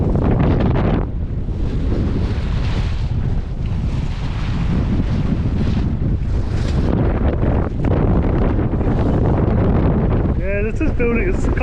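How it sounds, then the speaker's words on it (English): Gale force wind buffets the microphone aboard a sailing boat, a loud continuous rushing roar with gusts, and a brief voice near the end. "Probably can't hear you, it's windy."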